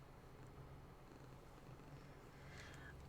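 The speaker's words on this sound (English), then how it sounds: "She's purring." A pet cat purrs softly and steadily throughout, a low continuous rumble close by in a quiet indoor room with faint background hiss.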